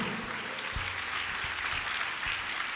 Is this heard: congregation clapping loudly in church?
yes